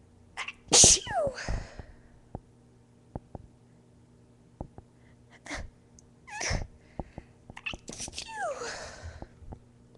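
A young woman's induced sneezes in a fit: a loud, sharp sneeze early on, then several more sneezes and breathy gasps spaced across the clip, close to the microphone over a quiet background hum.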